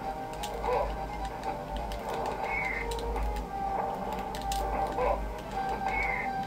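A bird clucks in short scattered bursts over a steady ticking, clattering background hum, with no talk.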